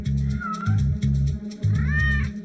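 A pet cat meows repeatedly in a homemade YouTube cat video, with several drawn-out, loud, close cries in a row and a steady low hum underneath.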